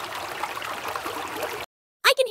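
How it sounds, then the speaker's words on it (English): Animated cartoon water sound effect of a sparkling stream trickling and babbling, a steady broadband rush for most of the moment before cutting off abruptly, followed by a brief voice. "I can hear the water."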